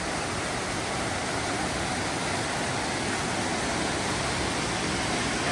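Steady broadband rush of Thompson Falls, a waterfall on the Beaver Brook Trail, heard up close at its top, loud and unbroken with no voices.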